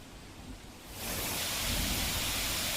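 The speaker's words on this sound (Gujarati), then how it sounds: "ગિરનાર વિસ્તારની અંદર વરસાદ છે તે પડી રહ્યો છે" Heavy rain falling in Junagadh around the Girnar area, a dense, loud, continuous roar that swells abruptly after the first second and then stays steady, with no voices.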